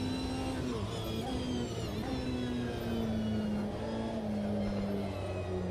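A GT1 race car in the Automobilista 2 racing game, its engine holding a loud, steady drone with small pitch shifts as it shifts and revs, running continuously with no talk.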